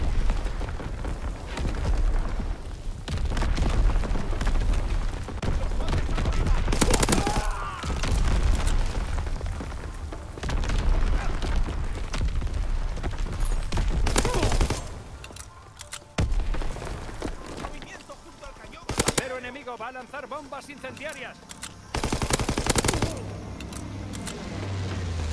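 Continuous heavy booms and rumbling blasts of enemy artillery fire in World War II video game combat, dense and loud with brief pauses between barrages.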